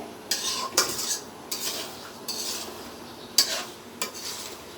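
Mango pickle with sugar being stirred in a pan: a spoon scrapes the pan in about six distinct strokes over a soft, steady sizzle, close and fairly loud.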